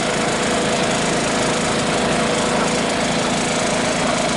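Motorbike engines roar together at the start of a TIPRA bike rally in Khumulwng, a loud, dense, continuous drone of idling and revving with steady vibration and no pauses.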